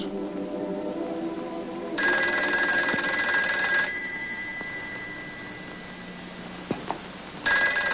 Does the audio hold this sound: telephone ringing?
yes